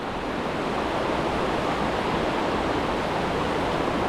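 Cold mountain stream water pours at a waterfall, a loud, steady, broadband rush that is close and unbroken, with no voices.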